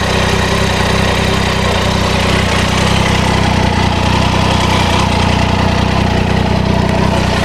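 A 2019 Triumph Tiger 800 XR motorcycle idles at 1000 rpm, a steady, loud, close engine rumble with an even low throb and no speech over it.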